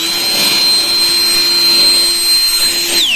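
A Euro Griffin 180i turbo jet mini blower, a 2000-watt battery-powered unit, runs continuously with a loud, steady high-pitched whine and airy rush, its tone dropping slightly right at the end.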